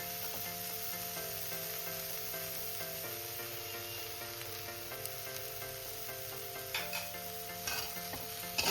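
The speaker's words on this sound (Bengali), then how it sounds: "এবার আমি বেগুনটাকে হালকা করে ভেজে নেব" Eggplant frying lightly with a little salt in a pan, a faint, even sizzle under a steady background hum, with a few louder crackles near the end and no talk.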